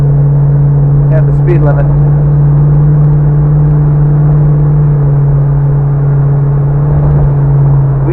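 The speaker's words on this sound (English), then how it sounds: "Merging onto the freeway is nothing like it used to be with a V6. Just a little bit of throttle and you're" Jeep Wrangler JK fitted with a GM 6-liter V8 accelerating onto a freeway, heard from inside as a loud, steady low engine drone and road rumble throughout, with someone talking over it.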